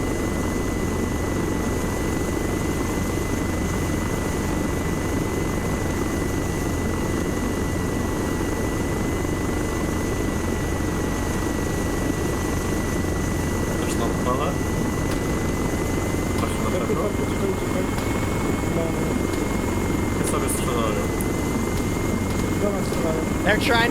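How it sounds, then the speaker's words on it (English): Helicopter flying overhead in a military video game set in Fallujah during the US Gulf War, a steady droning rotor and engine hum running continuously throughout at moderate level, with faint game noises mixed in. "Yep, helicopter's tracking them."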